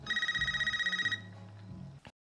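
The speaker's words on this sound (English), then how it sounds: "Landline won't stop ringing." Landline telephone ringing with a fast trilling electronic bell for about a second, then stopping as low voices and murmur carry on before a brief clatter.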